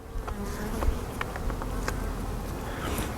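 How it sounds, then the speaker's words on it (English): Honey bees buzz steadily from a Layens hive that has overwintered, a moderate, continuous drone with a few bees darting close by and passing over it. "I hear them buzzing under there. They're buzzing, and here they come."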